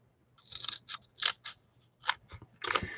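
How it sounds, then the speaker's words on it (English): Scissors cut craft paper into strips for card making, giving a run of crisp, close snips in an uneven rhythm, about eight separate cuts with no voice over them. "I'm going to just cut this with scissors into strips"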